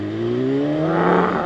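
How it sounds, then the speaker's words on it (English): A 2016 BMW S1000RR sport motorcycle exhaust revs up with a deep, loud roar, its rising engine tones sweeping upward over a second and a half, close and steady with no voices. "the exhaust sounds like the roar of a lion. Like it's, you know, deep and powerful."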